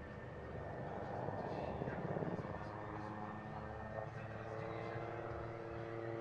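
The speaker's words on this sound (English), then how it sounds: "don't take your eyes off that helicopter because it's about to fire" A helicopter at the Antidotum Airshow in Leszno drones steadily in a broad engine and rotor roar as it fires a salvo of flares, the sound holding level with faint crackle through the noise.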